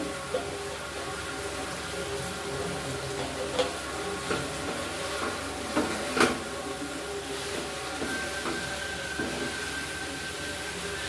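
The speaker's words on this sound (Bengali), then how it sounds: "এবার এই ভাজা ব্রকলি আর আলু দিয়ে দিচ্ছি।" Fried broccoli and parboiled potato sizzle steadily in a pan of spices, with intermittent scraping and clinking as the mixture is stirred; no voices.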